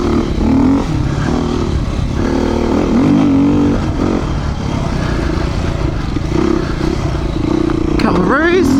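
A Beta 390 dirt bike rides outback trails in the Flinders Ranges at Alpana Station, its engine humming and revving steadily under wind noise and a rider's voice.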